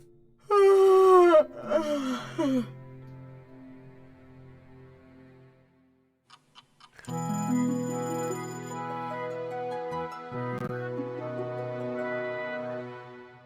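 A long drawn-out yawn in the video game Wylde Flowers, with a rising and falling voiced moan, followed after a pause by a sustained tonal drone with soft musical background.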